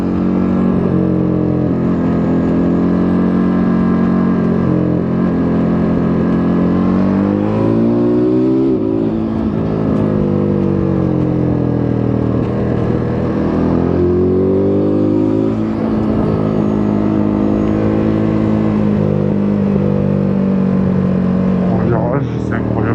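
Ducati Monster 937 motorcycle engine accelerating hard and loud up close, revs climbing and dropping through several quick quickshifter gear changes, with the engine note sustained throughout.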